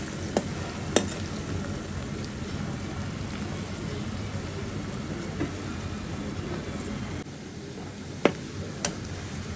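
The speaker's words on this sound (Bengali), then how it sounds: "আমি এখানে কিছু পেঁয়াজ বাদামি কালার করব।" Onions frying until brown for beef korma, a continuous soft sizzle and crackle with a few sharp clicks of stirring against the pan, close and moderately quiet.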